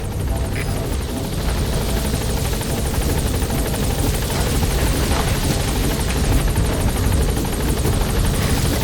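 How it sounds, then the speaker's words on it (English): A military helicopter in Metal Gear Solid V touches down, its rotor chopping loud and close with a constant thudding beat and engine whine that never lets up. "Chopper's touching down"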